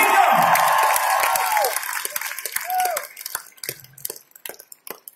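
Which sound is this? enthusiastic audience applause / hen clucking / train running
enthusiastic audience applause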